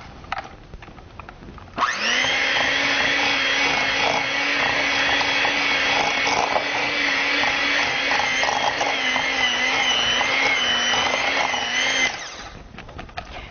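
A blender blitzes sponge cake batter with vanilla extract in a home kitchen, a loud steady motor whir running for about ten seconds, starting and cutting off abruptly, with quieter handling noise before and after.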